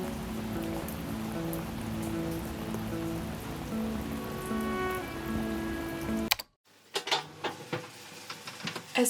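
Pouring rain patters densely on a balcony for several seconds, then cuts off abruptly to near silence followed by a few scattered louder taps and knocks.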